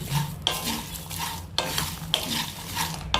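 Thandai spices with saffron are stirred and dry roasted in a pan, a spoon scraping in repeated strokes over a soft steady sizzle, close and moderately loud.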